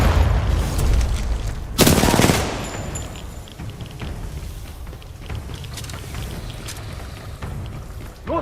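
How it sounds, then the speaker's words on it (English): A frag grenade explodes in Titanfall 2 with a loud sudden burst amid rattling gunfire, followed by continuous battle noise and scattered shots. "Frag incoming!"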